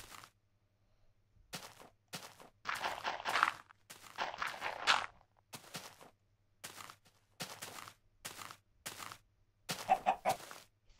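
Minecraft chickens cluck in short, close bursts of soft rhythmic clucks separated by brief pauses, over a faint low background hum and occasional step-like thuds, with no talk.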